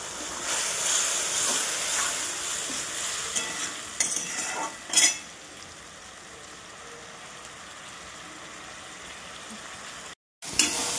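Spice paste with tomato and salt fries in oil in a pan for Bengali fish curry, giving a steady hissing sizzle with a few louder bursts of scraping as it is stirred.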